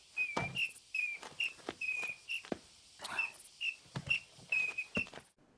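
Sharp, short training whistle blasts in the animated film The Triplets of Belleville repeat in quick irregular bursts, mixed with thumps and clatter between them.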